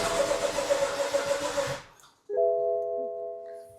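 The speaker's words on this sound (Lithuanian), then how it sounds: "Ištrynėm klaidas ir bandėm užkurti variklį." A BMW M2 engine cranks with a rhythmic, whirring starter for a couple of seconds, falls silent, then a steady tonal hum comes on.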